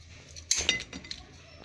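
Honey-glazed chicken wings are served onto a plate, with a few sharp clinks of utensil on crockery in quick succession over a quiet kitchen background, followed by softer taps.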